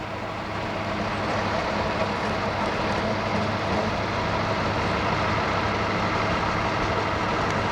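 A military dump truck's engine drones steadily while the vehicle sits stuck in a desert convoy during Desert Storm, a loud, constant low rumble that runs the whole time with no talk.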